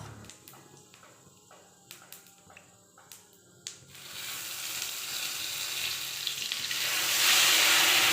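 A few sharp crackles and pops, then a strong, steady sizzle of whole cumin seeds and spice paste frying in hot oil in a wok that builds louder toward the end, with no one speaking.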